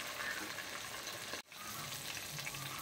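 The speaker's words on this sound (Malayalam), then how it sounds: "ഇപ്പോൾ നമ്മൾ നല്ല വൃത്തിയായിട്ട് ഇങ്ങനെ ഡീപ്പ് ഫ്രൈ ചെയ്ത് എടുക്കുക." Quail deep frying in hot oil, a steady dense sizzle and crackle heard up close with a brief dropout midway before the bubbling resumes.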